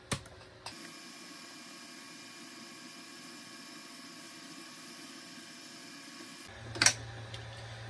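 A 3D printer's extruder motor pushes filament during e-steps calibration, a steady, faint mechanical whine holding for about six seconds, with a click as it starts and a sharper clatter near the end.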